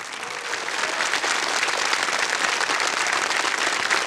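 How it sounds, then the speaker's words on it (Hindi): Studio audience on a televised quiz show bursts into loud, sustained applause, a dense, even roar of clapping that swells in after a brief softer start and holds steady. "तालियां बज जाए इनके लिए"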